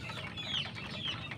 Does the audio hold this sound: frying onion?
no